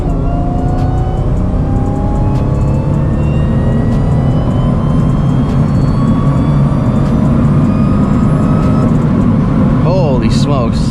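A supercharged Mercedes C32 AMG accelerates hard with a loud, steady engine drone and a rising supercharger whine heard from inside the cabin, one long pull with a voice speaking briefly near the end.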